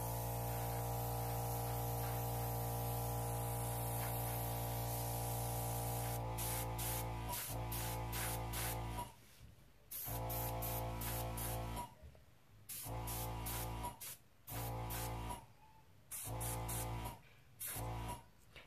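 An airbrush hisses as it sprays resin art to form cells, first a long steady hiss and then a string of short bursts with brief silent gaps between them.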